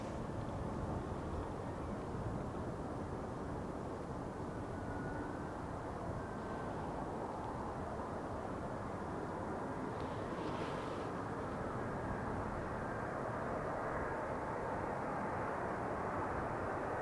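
Embraer passenger jet arriving on runway 18R at Amsterdam Schiphol, heard as a distant, steady broadband roar with a faint high whine, sustained and even over the whole stretch.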